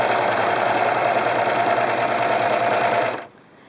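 A Singer Pro Finish serger runs steadily, chaining off thread with a loud, even mechanical whir and hum lasting about three seconds before it cuts off sharply into quiet.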